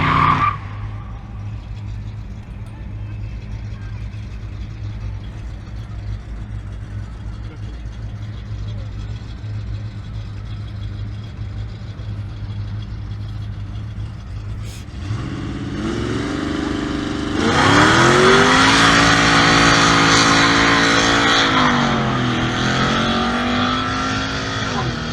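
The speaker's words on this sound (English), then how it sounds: "Crazy burnout." A supercharged Ford Mustang GT does a burnout at a drag strip: a steady engine idle gives way to a loud, sustained high-revving roar with tire screech that builds and holds to the end.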